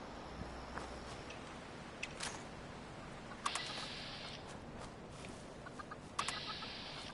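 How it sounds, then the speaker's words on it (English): Chickens cluck in the video game Fallout 76, with a few short, sharp clucks and squawks scattered over a quiet ambient background and no talking. "I hear a chicken."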